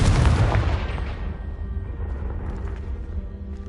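A Confringo blast spell goes off in a video game, exploding a pile of debris: a loud, booming burst at the start that rumbles and decays with scattered crackling rubble over the next few seconds.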